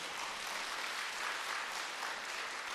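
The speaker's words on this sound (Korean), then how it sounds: "이럴 때 박수 한번 쳐도 아깝지 않습니까?" Sustained applause from an audience at a natural-food health lecture, a dense, even wash of many hands clapping at steady loudness throughout, with no distinct individual claps standing out.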